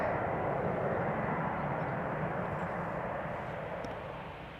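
An Embraer 190 jet at the runway threshold at Amsterdam Schiphol gives off a moderate, continuous engine roar that gradually fades toward the end, alone without speech.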